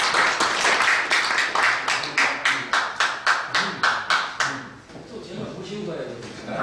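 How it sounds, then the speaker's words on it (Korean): Audience at a Christian book launch celebration in Korea claps in a steady burst of rhythmic hand claps for several seconds, then fades as ambient room noise and murmuring take over. "큰 박수로 맞아주시기 바랍니다."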